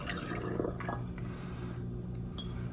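Vodka poured into a glass spray bottle, a short trickle of liquid with light drips and sloshing, close and fairly quiet.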